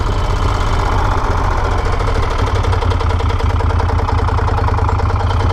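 A Moto Guzzi Stelvio twin-cylinder motorcycle engine runs loud and close, a steady throbbing idle with a rapid, even pulsing rhythm and no talk over it.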